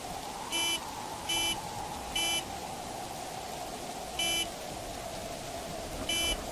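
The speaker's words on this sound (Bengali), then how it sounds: "মনে হলো গাড়ির হর্ন" A car horn beeps during a storm on a broken road, sounding as short, evenly pitched honks spaced irregularly apart, fairly faint and distant above a steady low background hum.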